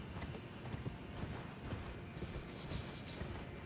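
Horse hooves clip-clop at a steady walking rhythm while riding a mount in Elden Ring, soft and continuous under game ambience, with a brief louder hit at the very end.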